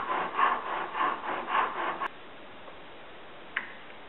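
Chisel cutting into solid wood while shaping a turkey box call, a run of rhythmic scraping strokes for about two seconds, then quiet with one faint tap near the end.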